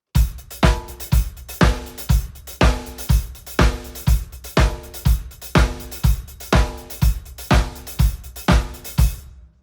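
Drum kit laying down a straight sixteenth-note groove with a repeating accent pattern, punchy kick and snare hits landing in a tight, even pulse, loud and close with no voice over it.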